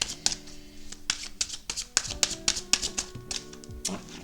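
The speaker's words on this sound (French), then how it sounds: "Encore une carte qui est tombée." Tarot cards being shuffled by hand give a run of crisp, irregular taps and riffling snaps, close and fairly loud, with one card slipping loose and dropping.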